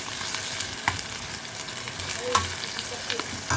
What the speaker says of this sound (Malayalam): വീണ്ടും ഇളക്കുക